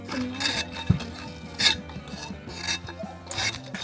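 Frozen fruit juice ice is scraped by hand in an experiment that puts salt on ice. Repeated rasping scrapes come with a few sharp clinks, close and fairly loud.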